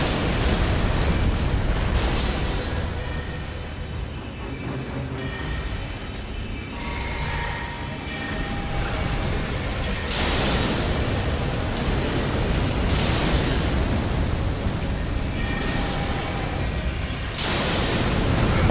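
Fire and explosions in Elden Ring, a dense roaring wash of noise with repeated surging blasts and booms, loud and continuous throughout.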